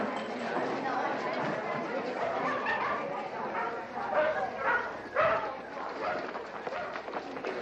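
Several dogs bark and yip in a busy indoor dog show hall while a crowd chatters and a public address voice announces the next breed to be judged.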